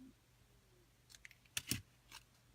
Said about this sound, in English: So I'm just going to trim off my ends